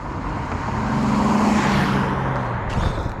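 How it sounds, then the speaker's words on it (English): A car approaching and passing on a road at a burnout test between a 6.0-swapped OBS truck and a turbo 4.8 Sierra, its engine hum swelling to a peak midway and then fading off, with no talking. "we got a car coming."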